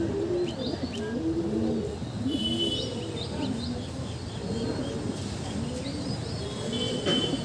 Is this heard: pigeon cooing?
yes